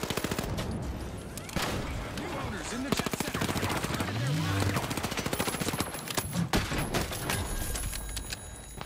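Gunfire in the video game The Finals, shotgun blasts among other weapons: rapid repeated shots and bursts running through the whole stretch, close and punchy, with a voice talking over the fight.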